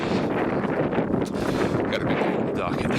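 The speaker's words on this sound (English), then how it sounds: "Damn, it's so cold. Windy too." Cold, gusty wind roars across the microphone outdoors, a dense, continuous rumble with brief rustling bursts and a voice faintly underneath.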